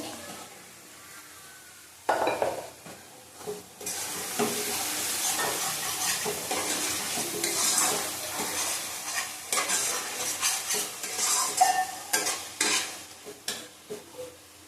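Chicken with raw mango, tomato and spices sizzles steadily while being stir-fried in a pan. Close, continuous frying with scraping and clinking from the spatula and pan, with no talk.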